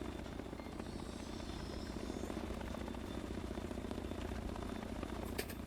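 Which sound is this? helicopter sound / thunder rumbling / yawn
helicopter sound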